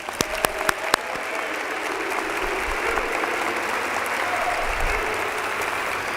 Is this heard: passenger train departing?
no